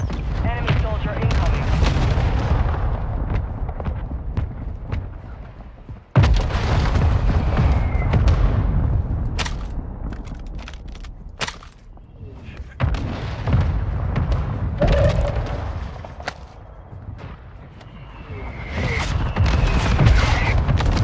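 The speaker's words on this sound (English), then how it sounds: "Our mortar strike is inbound." Mortar strike explosions in a multiplayer video game land as heavy booms, with one sharp blast partway through, among other game sounds while players talk over them.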